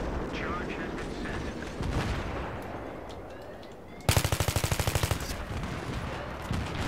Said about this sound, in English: It's just explosions everywhere.